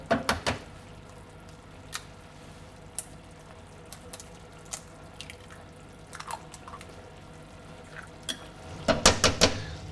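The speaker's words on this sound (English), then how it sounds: "now I'm going to make some little gaps in my stew and break my egg into the little gap" Eggs cracked one by one into small gaps in a simmering vegetable shakshuka stew: sparse soft clicks and wet drips close by, clustered at the start and again near the end, with quiet kitchen clinks between.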